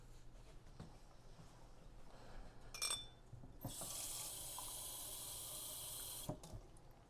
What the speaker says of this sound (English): I'm not adding too much water, but around that is probably alright.